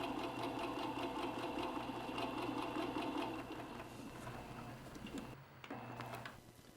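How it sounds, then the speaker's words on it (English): Sewing machine fitted with a Clarity foot running and skipping stitches, a quiet, steady mechanical whirring and rapid clatter throughout, with a brief faltering dip near the end. "And that sound can only mean one thing. Your machine is skipping stitches."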